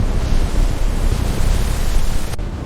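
A stormy sea with crashing waves and howling wind makes a loud, dense roar that surges and swells close by, then cuts off abruptly near the end.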